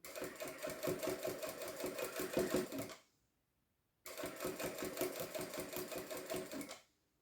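A sewing machine stitches along the edge of a faux leather keychain in two loud, rapid bursts of about three seconds each, separated by a short silent pause.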